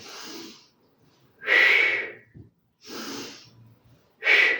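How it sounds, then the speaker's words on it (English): Deep breaths in and out during a glute-focused pilates exercise, each one a loud, close breathy rush spaced about a second apart, with some whistling on the stronger exhales. "Breathing in and out."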